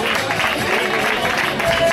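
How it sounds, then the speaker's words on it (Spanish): Crowd applause for a young triathlon finisher at a small-town race in Tíjola, a steady dense patter of many hands sustained throughout, with some background crowd noise. "Un fuerte aplauso para él"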